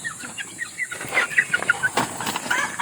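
Backyard chickens clucking in short, scattered calls over a soft outdoor background, a few sharper clucks bunched near the middle, with no talk.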